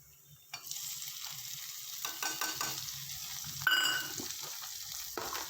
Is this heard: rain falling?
no